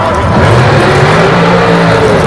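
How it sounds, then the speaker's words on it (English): Heavy street-class drag racing car with a big-block engine over 700 cubic inches doing a short burnout at a drag strip: loud, continuous engine roar with tire squeal, steady throughout. "Nice short burnout."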